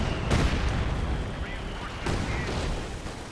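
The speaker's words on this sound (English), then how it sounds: "now the Brits are calling some artillery down on this guy" British artillery barrage in Company of Heroes 2, a dense roll of booming shell blasts and gunfire rumbling continuously, with louder impacts standing out amid the sustained battlefield din.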